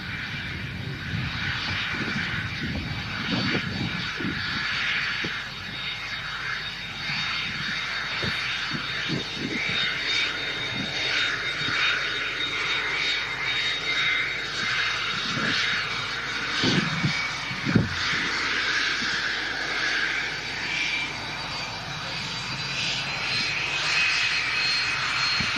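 Small aircraft landing and rolling onto a rapid exit taxiway, a steady engine drone with a whining high tone that rises and shifts, moderately near and continuous with no talk over it.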